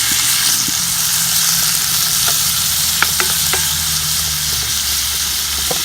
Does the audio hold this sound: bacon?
yes